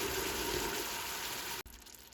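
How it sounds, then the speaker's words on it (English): Water runs into a small 6-ounce tomato paste can as a steady, close gushing hiss, then cuts off abruptly near the end, leaving a softer, lighter trickle. "Then I just fill that little 6-ounce can up with water to get all the paste out."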